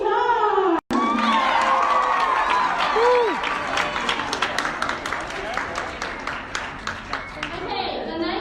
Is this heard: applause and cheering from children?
yes